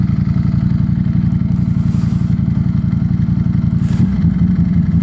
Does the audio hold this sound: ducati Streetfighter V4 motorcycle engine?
yes